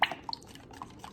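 Faint wet, squelchy clicks and drips from a thick homemade hand sanitizer gel made with ultrasound gel being stirred, a few soft pops in quick succession.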